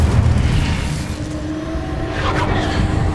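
Incendio fire spell cast in Hogwarts Legacy, a loud, close rushing whoosh with a low rumbling body that swells briefly and fades over about three seconds.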